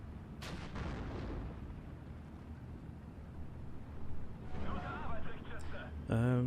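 A Pak 38 anti-tank gun fires in the World War II strategy game Steel Division: Normandy 44, one sharp booming shot near the start that rolls off into rumbling battle noise, with voices heard later.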